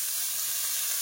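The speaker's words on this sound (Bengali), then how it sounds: "মাছগুলো কিন্তু একদম কড়া করে ভাজে নিচ্ছি" Pond-caught koi and lata fish fry crisp in a little oil, a brief, steady bright sizzle with no pauses and no talking.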